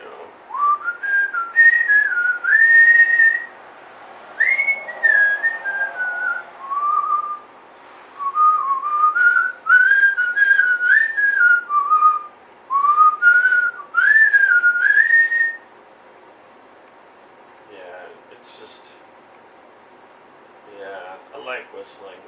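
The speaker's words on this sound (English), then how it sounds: "I've begun practicing jazzy type whistling" A man whistles in a jazzy style, a lively gliding melody in bursts with short pauses, close and clear with nothing else around it.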